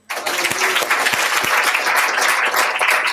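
A church congregation breaks into applause for the worship team, dense sustained clapping that starts abruptly and stays loud and close throughout.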